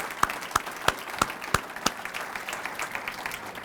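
Applause at a Hall of Fame ceremony, opening with several sharp, separate claps that settle into a lighter, steady patter from a modest crowd with no talking over it.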